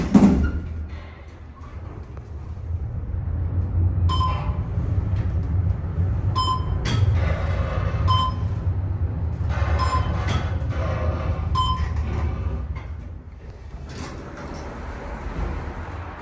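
Schindler 500A traction elevator motor in a parking garage car with no fan, running steadily between floors as a low continuous hum with occasional creaks, clunks and brief chime-like tones over it.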